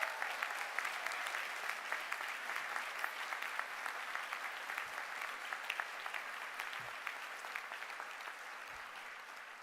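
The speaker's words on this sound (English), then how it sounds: "They deserve a big cheer as well" Steady applause fills a hall at a University of Stirling graduation ceremony, an even crowd of many hands clapping continuously, fairly distant and gradually tapering slightly, with no cheering voices standing out.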